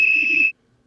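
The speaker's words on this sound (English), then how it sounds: "That's my whistle." A steam engine whistle on an express locomotive gives one shrill, steady blast at close range. It lasts about half a second and then cuts off sharply to silence.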